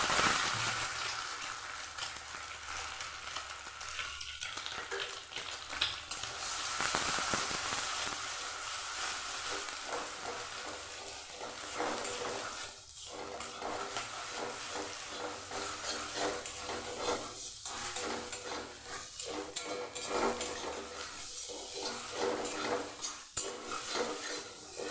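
Egg frying in a spoonful of oil in a pan, a steady hiss running throughout with repeated utensil scrapes and clinks against the pan, no one speaking.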